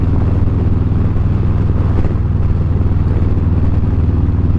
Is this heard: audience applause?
no